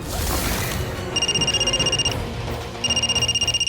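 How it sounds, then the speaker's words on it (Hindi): A telephone rings in two electronic trilling bursts, fairly loud over a busy background. "ममता का फोन है क्या?"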